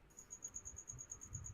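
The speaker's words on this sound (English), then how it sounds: "And I swear I'm hearing crickets." Crickets chirping from inside a wall: a faint, steady high trill pulsing in even bursts, with a soft low rumble underneath and no voices.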